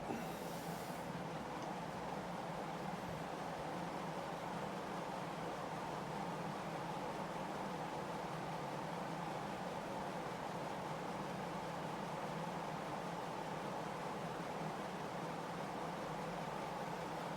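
An Encon Crompton-Greaves High Breeze 48-inch ceiling fan at full speed produces a steady, even whoosh of rushing air that holds constant throughout with no talking.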